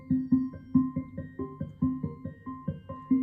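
Synthesizer sequence of short plucked notes played high, a steady repeating arpeggio pattern with even rhythm, moderately quiet and alone.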